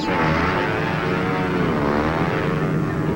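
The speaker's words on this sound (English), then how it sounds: "It might get in the way of Dr. Flight's plane." A cartoon propeller airplane drones loudly and continuously, its engine pitch wavering slightly as it flies, close and unbroken with no talking.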